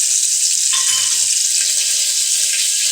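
Water poured into a cooking pot of tempered mustard seeds, green chillies and toor dal, a loud, continuous rushing splash close by with faint clinks underneath.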